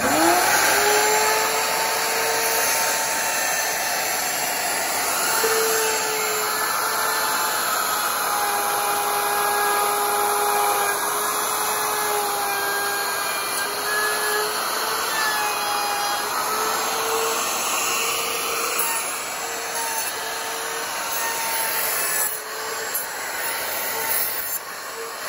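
A wood router cuts the tenon on an acoustic guitar neck, a steady loud whining drone with shifting tones that holds for the full length, then starts to wind down near the end with no talking.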